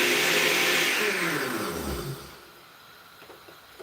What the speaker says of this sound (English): this is how you wash this Ninja machine